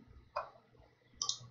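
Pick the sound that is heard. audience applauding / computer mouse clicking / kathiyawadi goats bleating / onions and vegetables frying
computer mouse clicking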